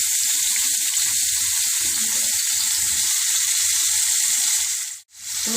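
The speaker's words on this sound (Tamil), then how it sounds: "நம்ம நறுக்கி வச்ச உருளைக்கிழங்கெல்லாம் போட்டுக்கலாம்." Potato pieces sizzle and crackle steadily in hot oil in a pan, a loud, continuous fry broken by soft stirring scrapes and one brief dip near the end, with no talk.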